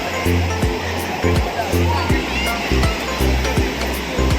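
River water rushes steadily over rocks at a bathing spot, a continuous close roar running under people talking.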